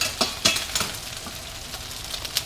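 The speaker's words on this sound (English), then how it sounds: "Now you just want to add in the rice noodles." Rice noodles go into a hot pan for Pad Thai and crackle with a bright sizzle. Several sharp bursts of stirring and frying sounds land in quick succession over a constant hiss, close up and with no voices.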